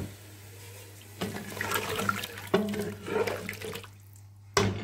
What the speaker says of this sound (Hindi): अब हम इसमें ऐड करेंगे 2 गिलास पानी।